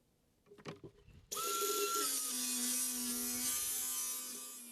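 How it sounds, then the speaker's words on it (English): A power drill or driver runs loudly and steadily, screwing deck boards into place outdoors; its pitch drops partway through as the screw seats, preceded by a few short knocks. "now it's time to put everything into place and screw it all down"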